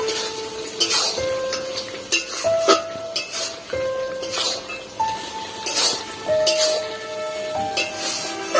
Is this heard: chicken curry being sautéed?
yes